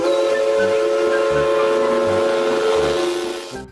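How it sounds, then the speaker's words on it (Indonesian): A Thomas toy steam train whistle sounds in a sustained, bright, steady tone with a hissing edge, accompanied by a soft rhythmic chugging pulse underneath. "lihat teman-teman, ada kereta Thomas"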